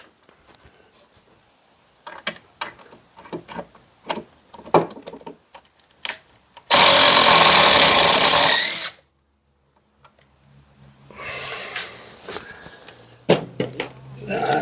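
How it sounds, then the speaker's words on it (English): A power drill backs out screws in short whirring bursts amid clicks and handling noises, then one long loud sustained run and later another stretch of drilling, with some talk in between. "first thing is to back out the screws that are in there"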